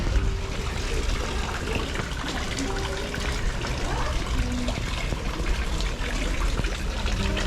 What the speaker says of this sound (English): There is running water in the gardens, and there are beautiful fountains